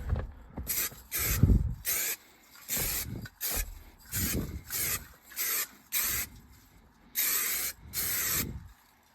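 Aerosol can of SEM trim black paint sprayed onto a car dashboard during a cammed 5.0 project, in about eight close, loud hissing bursts of roughly half a second to a second each, separated by short pauses.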